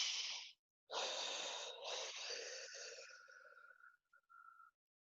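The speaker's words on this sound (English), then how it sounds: "Let's do a double inhale, exhale breath here." Slow, audible breaths taken during a piriformis stretch in a stretching session: a sharp inhale, a short pause, then a second long inhale and a drawn-out exhale that tapers off with faint whistling, close up and alone.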